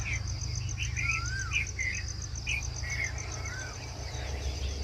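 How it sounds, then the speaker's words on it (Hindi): Dawn birdsong around 5:30 in the morning: several birds whistle short rising and falling calls at moderate distance over a constant, pulsing insect drone and a low steady hum, with no voices. "आप देखिए चिड़ियों की आवाज़"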